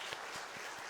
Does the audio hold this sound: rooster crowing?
no